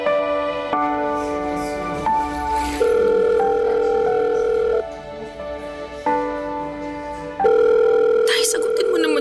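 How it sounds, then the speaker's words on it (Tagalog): A telephone rings unanswered, with repeated electronic ringing tones and a sustained dial-like tone pulsing in bursts over several seconds, loud and close. "sagutin mo naman yung tawag ko"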